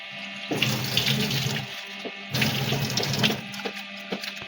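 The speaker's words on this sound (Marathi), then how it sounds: "कोलंबी सोलून झाल्यावर आता ती स्वच्छ धुवून घेतली." Peeled prawns are washed under a running kitchen tap in two bursts of gushing water, with a short pause and a lighter trickle between them, close and clear.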